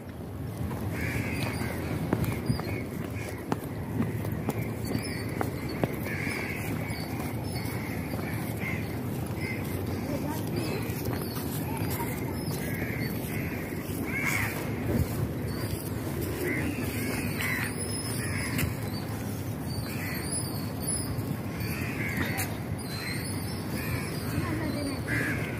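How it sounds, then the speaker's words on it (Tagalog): Crows caw repeatedly over a steady outdoor wash of noise at Danga Bay, Johor, Malaysia, some calls nearer and sharper, others distant. "Mga uwak ang dami dito."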